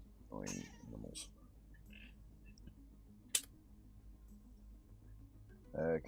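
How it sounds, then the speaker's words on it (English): Cats meowing for a treat indoors, a couple of short clear meows near the start and another at the end, with a sharp click between them against quiet background hum. "Cats want a small treat, so oh well, they're happy now."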